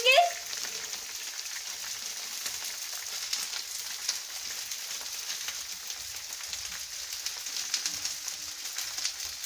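Onion hits hot oil over fried chicken in a pan with a sharp initial hiss, settling into a soft, steady sizzle that continues for several seconds.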